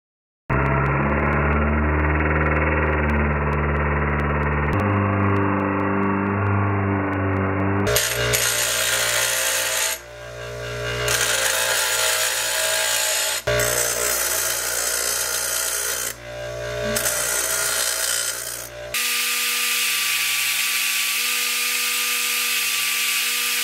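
Door hinge pins on a 1971 Chevy C10 truck are cut down with a power tool: a loud, steady whine that changes pitch as the cut bites, stopping and restarting several times.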